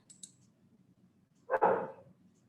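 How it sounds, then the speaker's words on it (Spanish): A pet dog gives a single sharp bark indoors, loud and close, after a couple of faint high clicks and low background hum; no talk over it. "mi perra ladra, no sé qué le pasa"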